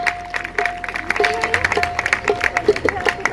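A church congregation claps together in praise of God during a testimonies service, a steady patter of many hands with a sustained tone and voices running underneath.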